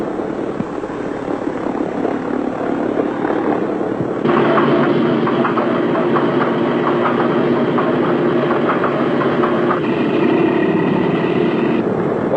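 The number 2 engine of an aircraft starting up, a steady droning hum that jumps to a louder, fuller whine a few seconds in and holds, with no voices.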